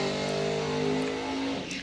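Drag-race cars launching off the line, a steady high-revving engine drone held for over a second before it fades, loud and fairly close, with no talking.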